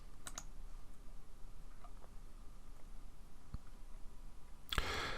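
Sparse computer clicks sound during a software demo: a couple of sharp taps at the start, a few faint ones in the middle and a louder cluster at the end over quiet room noise.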